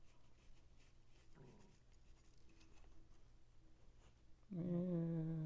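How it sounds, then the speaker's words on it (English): A pencil scratches along a piece of wood, marking a cutting line for carving an angel figure; faint, soft scraping strokes close by, with a brief louder rubbing near the end. "And just kind of pencil in my line so I know."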